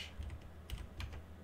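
Several quick bursts of keystrokes on a computer keyboard while configuring a Raspberry Pi for a Voron 2.4 3D printer, faint and close, with short pauses between clusters of taps and no talking.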